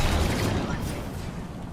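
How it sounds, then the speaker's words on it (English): A grenade blows up in the Apex Legends battle-royale shooter, a dense, loud rumbling blast at the start that slowly fades into a lingering roar. "Grenade."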